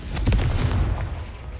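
A Confringo fire-blast spell explodes in the wizarding game Hogwarts Legacy, one deep booming burst with a rumbling low-end tail that fades out over a second or so, with no voices.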